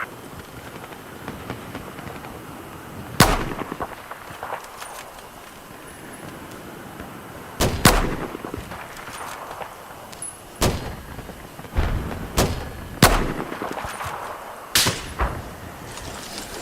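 Video game gunfire, sharp isolated shots cracking out at irregular intervals over a low steady background hum, several loud close reports spaced a few seconds apart.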